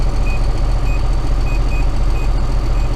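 Seed monitor alarm in a tractor cab during corn planting, signalling a planter row has dropped below its set seed rate: short high beeps repeat at an irregular pace over a loud, steady engine and cab rumble.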